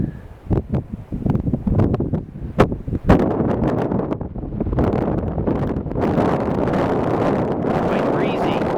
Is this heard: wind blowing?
yes